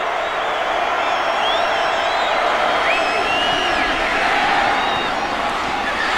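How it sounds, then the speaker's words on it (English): Stadium crowd at a 2002 Oklahoma Sooners versus UTEP college football game, a loud continuous roar with whistles and whoops rising over it and commentary running underneath. "Crowd getting into it."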